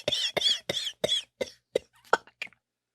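A podcast player imitates a series of harsh, wet coughs with his voice, about eight rhythmic bursts close to the mic that weaken and space out toward the end.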